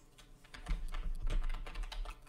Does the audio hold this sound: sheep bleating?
no